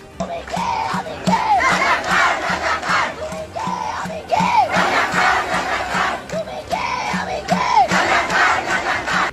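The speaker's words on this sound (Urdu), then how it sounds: "گالی کو اپنے لیے اعزاز قرار دے کر یہ نعرے لگانے شروع کر دیے کہ تم بھی میں بھی رضاکار رضاکار" Bengali students at a protest in Dhaka chanting the slogan "Razakar, Razakar" in unison, a loud crowd of voices repeating the rhythmic call over and over in regular waves.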